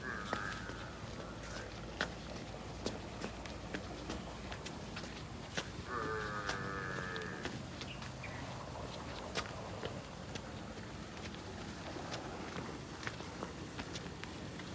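Two large water buffaloes give a few drawn-out bleating and lowing calls amid steady outdoor noise in Gharyala village, with shuffling footsteps and faint voices in the background.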